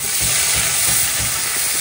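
Potatoes sizzle in hot oil in a home kitchen pan, a dense, continuous hiss of frying at close range with faint stirring rumble underneath and no talking.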